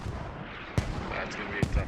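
Mortar rounds in the Squad game landing at a distance, two dull thumps about a second apart over a constant low rumble of battle.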